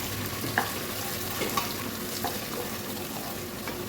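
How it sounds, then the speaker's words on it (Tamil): Ginger, garlic and green chillies sautéing in a pan with ground mint and coriander for a pulao, a close continuous sizzle with a few light stirring clinks. "பாருங்கள், இது நல்லா வதங்கிட்டுருக்கு. இஞ்சி பூண்டு வதங்கிடுச்சு."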